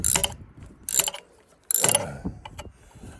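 Socket ratchet loosening bolts on a Wisconsin engine, with three close bursts of rapid clicking separated by pauses, and faint handling noises between them.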